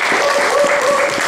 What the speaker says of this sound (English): So please just give a round of applause to Richard.